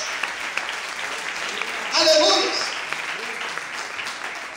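A church congregation breaks into a brief swell of applause during a sermon, clapping building for under a second and fading as a voice continues over the room.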